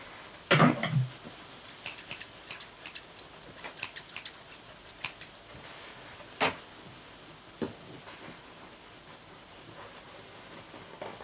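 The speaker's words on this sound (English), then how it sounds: "I'm just going to separate these with some scissors." Scissors cutting through watercolour paper to separate painted pieces, a short crisp snip near the start followed by quieter scattered clicks and small taps of paper being handled, close and quiet with no talking.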